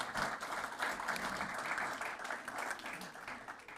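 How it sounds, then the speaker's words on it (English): Indoor applause rises from the congregation at a funeral service after a song. The clapping is steady and moderately distant and continues for a few seconds. "Another round of applause for Olive Kim."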